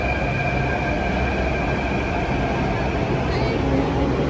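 Delhi metro train at Lajpat Nagar station, a loud, steady rumble of the carriages with sustained whining tones running throughout, close and continuous.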